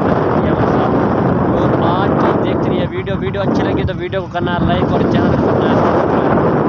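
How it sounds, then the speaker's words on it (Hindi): Strong outdoor wind buffets the microphone with loud, continuous low rumble throughout, while someone talks over it. "यहाँ ना तेज़ हवा चल रही है जिसकी वजह से मेरी आवाज़ ठीक नहीं आ"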